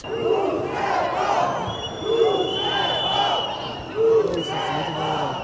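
Civic activists loudly shout and chant in rhythmic bursts at members of the ruling Georgian Dream party outside Tbilisi City Council, a dense crowd of voices close by.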